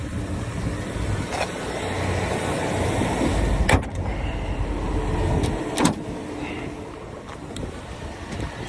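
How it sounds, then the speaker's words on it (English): A car engine idles steadily during an alternator test, a continuous close rumble with wind buffeting, and a couple of sharp clunks and knocks cut through partway. "We're gonna see if the alternator will let the vehicle run."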